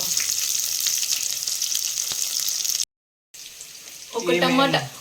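Onions frying in oil for a chicken biryani give a steady loud sizzle that cuts out briefly, then returns with a burst of louder crackling as more goes into the hot pan.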